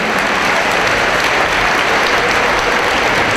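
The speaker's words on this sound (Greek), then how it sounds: "Να χειροκροτήσουμε και να ευχαριστήσουμε τον Σεβασμιότατο" A hall audience at a New Year's pie-cutting gathering of a UNESCO club in Chalkida applauds loudly and steadily, a dense continuous wash of clapping throughout.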